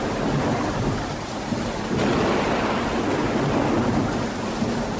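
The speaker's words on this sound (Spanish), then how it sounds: "Durante 40 días y sus noches no cesaron de caer cascadas de agua" Floodwater pouring in torrents during a long storm, a continuous heavy roar of rushing, surging water that swells slightly partway through, with no voices.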